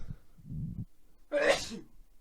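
Soft breathy murmurs, then a single sharp, loud sneeze bursts out close by and quickly trails off.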